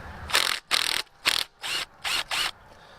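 A hand ratchet loosens a nut on an old abandoned Pontiac 400 engine, giving six short bursts of fast, close clicking with brief pauses between strokes.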